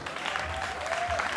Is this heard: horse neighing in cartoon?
no